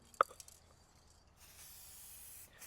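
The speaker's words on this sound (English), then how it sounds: "we're always gonna use developer spray because there's never a reason not to" Developer spray can used to dust a part before 3D scanning, a faint steady hiss that starts about halfway through and runs for about a second after a short click.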